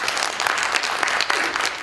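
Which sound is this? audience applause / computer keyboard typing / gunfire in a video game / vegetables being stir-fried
audience applause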